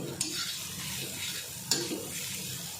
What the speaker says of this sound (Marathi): थोडं परतून घ्यायचं म्हणजे कच्चीपणा जातो त्याला तेलामध्ये